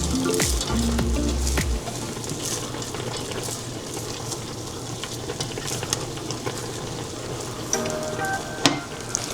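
Burrito filling frying in a pan with a constant close sizzle, as a utensil stirs through it with soft scrapes and a few sharper clinks toward the end, with no one talking.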